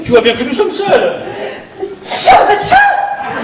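A sneeze on stage during a French theatre comedy, a short sharp burst amid lively talk between actors and some chuckling.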